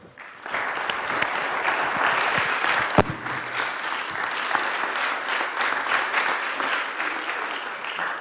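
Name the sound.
applause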